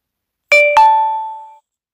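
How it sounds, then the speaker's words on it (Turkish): A Samsung phone's charger-disconnect chime: two quick bright electronic tones, the second ringing out and fading, clear and alone. "Telefonumuzdan şarj cihazını çıkardığımızda da aynı şekilde bu ses çıkıyor."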